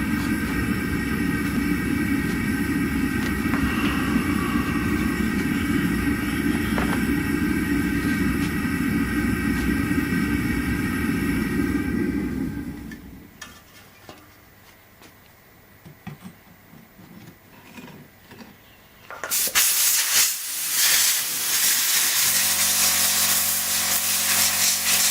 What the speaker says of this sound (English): I'm going to speed it up a little bit by using compressed air.